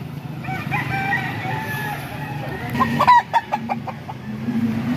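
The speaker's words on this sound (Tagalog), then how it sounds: "unang manok na nakita natin dito sa grotto ngayong umaga" A Gilmore rooster at a grotto market crows loudly and close in the morning, with a clucking tail. Crowd murmur and other poultry sounds fill the background.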